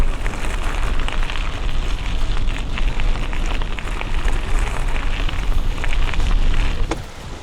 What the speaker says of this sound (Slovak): Až na ten vietor.